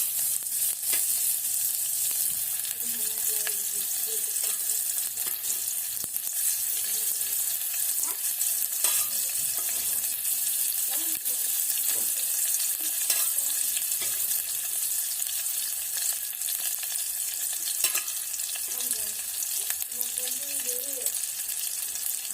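Chopped onion fries in four or five spoonfuls of oil for a village-style chicken curry, a steady even crackle close by, with soft voices and faint tones in the background.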